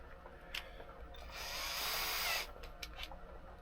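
A brief whirring burst from a power drill running for about a second amid soft clicks and handling noise, fairly quiet overall.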